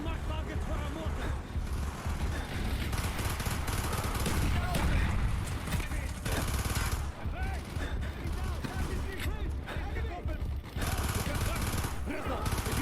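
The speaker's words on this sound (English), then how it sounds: "Firing mortar! Firing!" Mortar and gunfire boom in Call of Duty: Black Ops, with heavy explosions and bursts of shots mixed with shouted voices and battle noise across a long, dense, uneven stretch.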